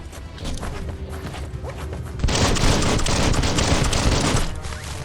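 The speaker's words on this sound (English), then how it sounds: "Bullets everywhere." Gunfire rattles in the action game Biomutant amid a hectic fight, with scattered shots at first and then a dense, loud burst of crashing fire and impacts that holds for a couple of seconds before easing.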